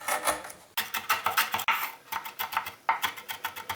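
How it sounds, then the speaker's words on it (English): A knife chops lemongrass on a cutting board in quick, steady rhythmic knocks, close and fairly loud, with no talking. "we'll just chop up my lemongrass"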